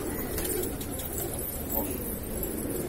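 Pigeons coo softly amid a steady outdoor background hiss, with a few low murmuring calls and no clear talk.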